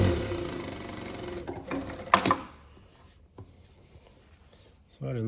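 A Jack A5E-B AMH2 industrial sewing machine stitches a bar tack: a dense mechanical whirr for about two seconds ends abruptly, followed by near silence and a brief renewed burst.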